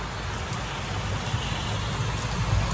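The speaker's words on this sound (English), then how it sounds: "it's very loud in the garage right now because it's raining outside" Steady hiss of heavy rain drumming on a garage roof overhead, continuous and fairly loud, with no voices.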